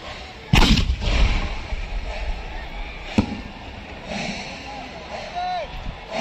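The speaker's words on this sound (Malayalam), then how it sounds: "അടുത്ത കുടമിട്ട് പൊട്ടിക്കാൻ വേണ്ടി പോവുകയാണ്." Kudamittu umbrella firework shells bursting at the Nenmara Vallangi Vela festival in Kerala, with two sharp booms a few seconds apart over a noisy outdoor crowd, and people talking throughout.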